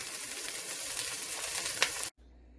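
Leftover mashed potatoes warm in butter in a pan, giving a soft, even sizzle with a brief rustle near the end before it cuts off abruptly into near silence.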